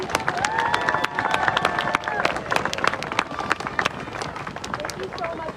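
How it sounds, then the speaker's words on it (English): An outdoor crowd at the Vermont State House Christmas tree lighting claps and cheers for Louis Franco and his band, lively scattered applause mixed with shouts and chatter from people nearby. "Big round of applause, everybody."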